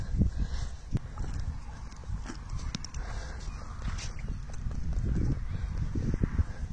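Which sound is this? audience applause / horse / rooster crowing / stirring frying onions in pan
horse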